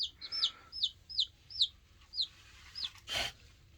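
Black copper chicken clucking close by in a quick series of short, bright calls, roughly eight clucks spread evenly, with a louder rustle or burst near the end and no talking.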